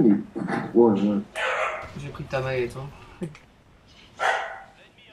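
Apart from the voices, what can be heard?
dogs barking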